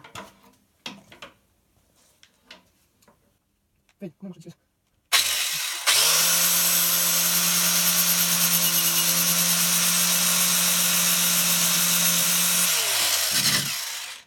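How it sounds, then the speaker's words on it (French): A person talks, then an angle grinder starts and cuts steadily through a welded chain guard on a motorcycle swingarm, a loud continuous high whine lasting about nine seconds before it winds down. "Donc on va se faire ça tranquillement à la disqueuse"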